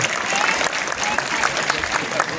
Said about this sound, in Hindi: जेएम मैडम के लिए जोर से तालियां बजाने का